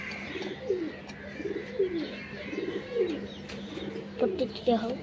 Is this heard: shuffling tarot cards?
no